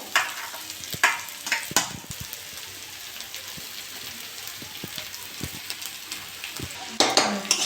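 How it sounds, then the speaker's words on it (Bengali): Boiled potato going into cauliflower frying in a pan: steady crackling sizzle with scattered clicks and scrapes of stirring, plus louder clattering bursts near the start and the end, fairly close. "এবার আমি একটা বড় আলু সিদ্ধ করে রেখেছি, এই আলুটা আমি দিয়ে দেবো।"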